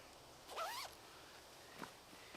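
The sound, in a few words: vest zipper being zipped up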